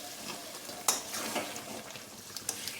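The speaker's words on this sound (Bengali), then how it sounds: "কষানো হয়ে এসছে মাংসটা, একটু আমি গ্যাসটা একটু বাড়িয়ে দিই।" Meat sizzles while being sautéed in a pan over a gas flame on a home stove, a soft continuous frying hiss with a few sharp spatula clinks, close and fairly quiet.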